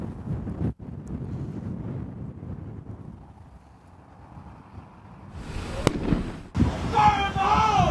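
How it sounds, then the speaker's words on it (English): A police-detonated pipe bomb outside a South Salt Lake restaurant, heard from a parking lot: a sharp bang, then a louder, harsher boom, over steady wind rumble and background voices. "The first one was from my camera just as that explosion happened."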